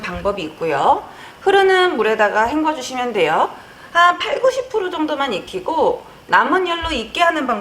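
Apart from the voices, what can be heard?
No distinct noise like a dog, phone or traffic.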